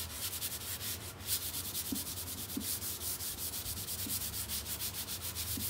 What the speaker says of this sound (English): here we go with the sanding